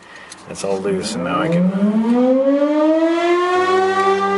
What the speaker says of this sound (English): Every month or so tests its air raid siren.